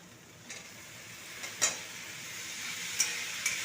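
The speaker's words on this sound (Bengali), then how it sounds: "পেঁয়াজ শাকটাকে একটু ভালো করে নেড়ে নেবো।" Onion greens stirred in a pan alongside fried potato, a steady close sizzle with several scraping spoon strokes and light metallic clinks.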